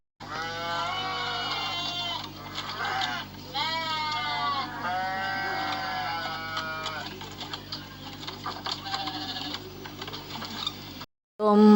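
A toy sheep bleats in repeated, drawn-out electronic cries, loud and close with short gaps between them, and it cuts off abruptly near the end.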